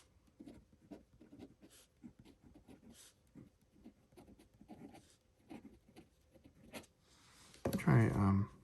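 Nib of a Montblanc 221 fountain pen writing on paper, a faint scratchy patter of short strokes in quick irregular rhythm, close up, ending with a brief louder burst of noise.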